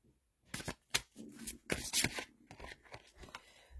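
Tarot cards are drawn from a deck at close range, making quiet rustles, sliding swishes and a few crisp card snaps in irregular bursts against a silent background.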